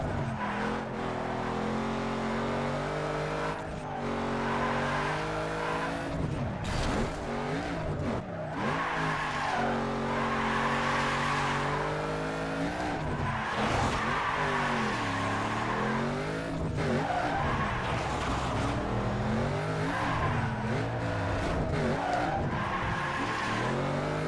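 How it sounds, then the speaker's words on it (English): A race car engine in a video game revs and shifts gears continuously, with tire squeals and skidding as it corners, loud and constant throughout with rising and falling pitch. "It's engine sounds. Like the sound the car makes"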